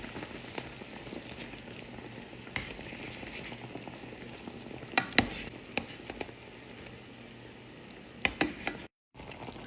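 Dessert dough balls frying in a pan, a steady dense crackle and bubble of hot oil with scattered sharp pops and clicks throughout, ending in a brief cutout.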